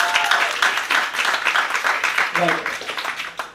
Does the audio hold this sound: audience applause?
yes